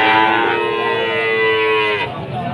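Cattle moo loudly at a crowded livestock market where female Simmental calves are sold, one long drawn-out low call close by that fades near the end over a murmur of market noise.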